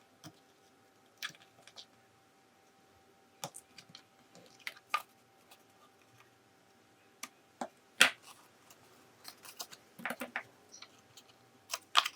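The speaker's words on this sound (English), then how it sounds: "Now I realized what I need to cut these corners." Paper corners being trimmed for a scrapbook album, heard as scattered sharp snips and clicks close by, irregular and separated by quiet gaps.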